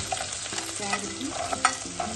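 Ginger and carrot being sautéed in a pan for a pickle: a soft continuous sizzle with light scraping stirs and occasional clinks of the spoon, close and moderately quiet.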